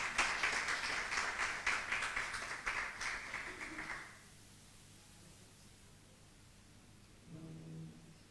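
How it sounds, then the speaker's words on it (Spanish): Audience applause at a Senate event, a dense wash of clapping for about four seconds that cuts off abruptly, leaving quiet room tone with a brief murmur near the end. "Un fuerte aplauso."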